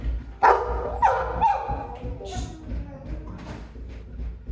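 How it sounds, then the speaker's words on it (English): A dog barks a few times, sharp and fairly close, followed by softer yips and muffled background noise. "So here we have Lulu barking"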